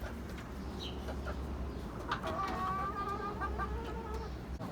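Backyard hens, larger older birds alongside younger ones, making soft clucks and low chortling calls over steady outdoor background noise, moderately close, with no talking.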